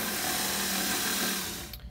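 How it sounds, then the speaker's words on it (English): A power drill whirs steadily and loudly while boring a hole through a cabinet door for a lock, then winds down and stops just before the end. "Now I'm going to use this drill bit,"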